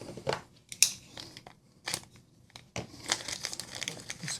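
Sealed plastic packaging around a BergBlades Sweeney knife is torn and crinkled open in several sharp, close bursts separated by short pauses.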